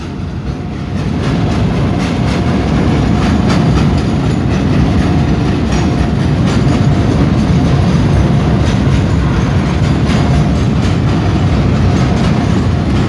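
A long freight train, number 818, hauling more than twenty container wagons rolls through a level crossing on Rama 4 Road, its loud, steady rumble and wheel clatter continuous and close throughout.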